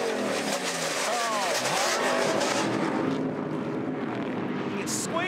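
Racing trucks roar past on a circuit, a dense, loud blur of engines revving and accelerating together as the pack scatters, with a commentator's voice mixed in.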